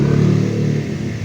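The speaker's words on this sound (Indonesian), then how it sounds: "menghidupkan mesin" An Isuzu Panther turbo diesel engine fires up and settles into a steady, loud, close rumble, its low knocking idle pulsing without pause.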